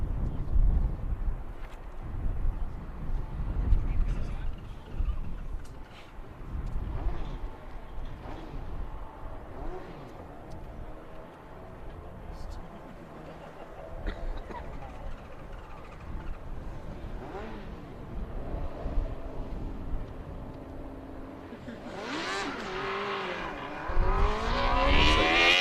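A University of Puerto Rico Formula SAE combustion race car launches in a 2024 acceleration event, its engine note rising through the gears over steady wind rumble and swelling louder near the end of the run.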